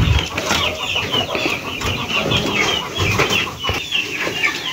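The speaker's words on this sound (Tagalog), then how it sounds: "Ayan po ang ating mga sisiw." Baby chicks chirp constantly and busily while pecking at moist feed mash mixed with egg. Many overlapping peeps sound close and loud, with an occasional low cluck from a grown chicken.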